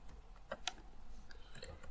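A few scattered keystrokes on a computer keyboard as a command is typed, soft and close, with irregular clicks.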